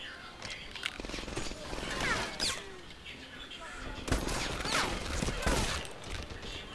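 Bursts of enemy rifle and machine-gun fire in the World War II shooter Medal of Honor Airborne crackle at moderate distance in repeated volleys, with brief lulls between them.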